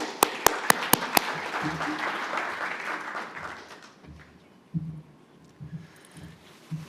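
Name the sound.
audience applause at a conference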